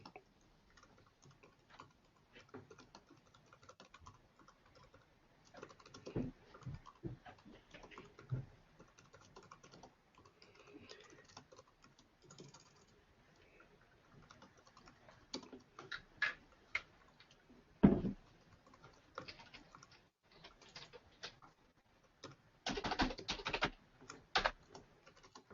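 Quiet, irregular typing on a computer keyboard, scattered light keystrokes picking up into a denser flurry of clicks toward the end, with no talking.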